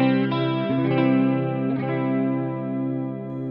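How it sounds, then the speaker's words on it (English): A sustained electric guitar chord through a MayFly Audio Goddess Dual Chorus pedal shimmers with a lush, wavering chorus effect, with a couple of strums renewing the ringing tone. "It's a very nice sounding chorus tone."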